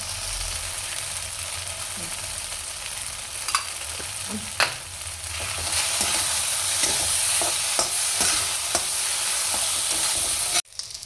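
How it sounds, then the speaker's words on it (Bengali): Mushrooms frying in oil in a pan, a steady close sizzle with scattered clicks and scrapes of stirring, ending in a sharp clatter. "তারপরে ধরে মাশরুমটা দিয়ে দেবো একটু ভাজা ভাজা মতো হয়ে এসছে"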